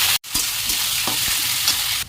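Chopped onion hits hot oil with whole garam masala, a loud, continuous hiss of frying with soft stirring thumps, close up and without talk.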